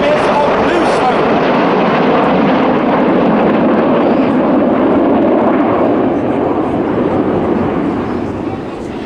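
RAF Red Arrows jets performing a flying display at the Midlands Air Festival, a loud sustained jet roar that fills the air, steady and broad, with a commentator's voice over the public address running beneath it.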